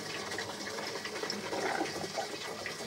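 Water trickles and splashes steadily through pipes in a video game, a close, continuous burbling flow with no talk.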